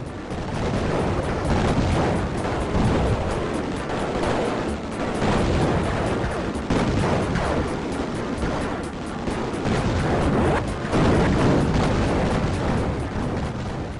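Air-to-ground missile explosions in the MS-DOS shooter Raptor: Call of the Shadows, a dense, relentless barrage of loud, crunchy booms that fills the whole stretch without pause.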